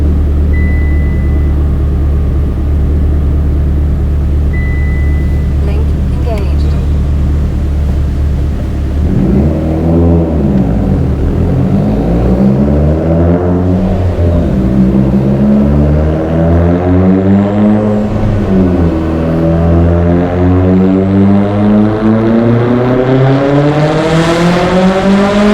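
Turbocharged Mitsubishi Evo X with a GTX3576 turbo, Kelford 214-B cams, 1200cc injectors, flex fuel and a stock block, idling loud and steady, then revving hard several times with rising, falling engine pitch and turbo whine up close.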